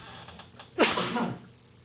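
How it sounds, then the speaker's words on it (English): A radio host lets out a single sharp, breathy sneeze close to the studio microphone after a soft intake of breath, loud against quiet room tone. "the minute I start to talk, I have to sneeze"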